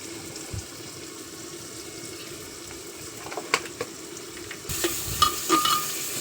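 Onion fries in oil for handi chicken, giving a low, steady sizzle with scattered stirring clatter. The frying noise swells louder and brighter near the end.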